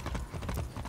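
A few quick, close hoofbeats from a horse trotting in the video game Far Cry 6, a brief burst of clip-clop.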